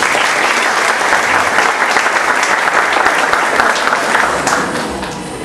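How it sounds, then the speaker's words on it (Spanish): Sustained applause from a crowd at a broadcasting school graduation ceremony, steady and fairly loud throughout, fading slightly at the end. "Aplausos."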